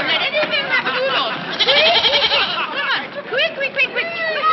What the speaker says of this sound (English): Come on, goat, come on.